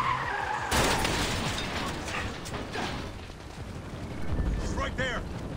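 Katyusha rocket fire in Splinter Cell: Blacklist, a loud sustained roaring rumble with crackling bursts and mechanical rattles that swell and fade over several seconds.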